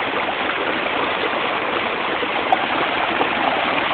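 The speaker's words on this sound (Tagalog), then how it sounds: "flowing water." Flowing water from a stream rushes steadily and close by, an even, continuous wash with no pauses and no voices.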